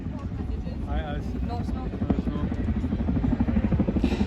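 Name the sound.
Chinook tandem-rotor helicopter flying at air show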